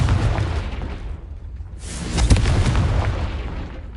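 A Confringo fire spell bursts in Hogwarts Legacy, a deep booming blast with a whooshing swell, heard twice close together over a rumbling background.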